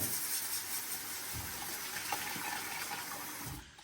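Water runs steadily from a tap in a home, a continuous, fairly loud rushing gush throughout, with no talk.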